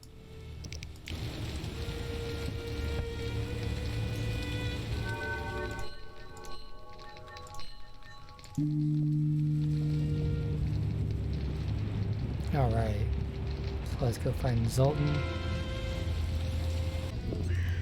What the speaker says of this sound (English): Man, it's raining.